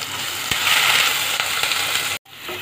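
Grated ginger and green chili hit hot oil and fry with a loud, steady hiss at close range, with a brief clack near the start and a sudden drop at the end, no voices.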